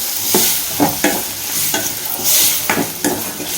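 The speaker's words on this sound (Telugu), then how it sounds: "ఇప్పుడైతే మనం కట్ చేసుకున్న క్యారెట్ ముక్కలు అయితే వేసుకుందామండి ఎంత సన్నం కట్ చేస్తే అంత మంచిగా మగ్గిపోతుందండి" Finely chopped carrot pieces sizzle in a pan while a spoon stirs them in repeated scraping strokes, close and fairly loud.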